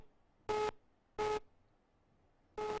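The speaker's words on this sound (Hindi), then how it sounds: "चलिए, संपर्क नहीं हुआ, फोन डिस्कनेक्ट हो गया।" A telephone busy tone after a disconnected call: three evenly spaced, clean electronic beeps, each lasting about a fifth of a second, heard alone against near silence.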